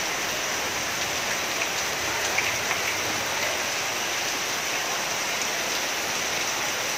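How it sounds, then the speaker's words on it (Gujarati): Heavy monsoon rain pours steadily in the Kutch district town of Mundra, a dense, continuous hiss of drops on surfaces with no talk, loud and unbroken throughout. "अने मुंद्रामां पण व्यापक वरसाद वरस्यो हतो"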